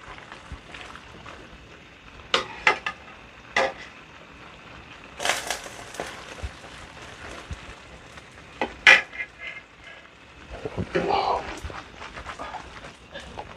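A spoon scrapes and knocks around a pan of bolognese ragù sauce, giving scattered sharp clinks and a wet stirring rustle over a low background, with a voice talking at times.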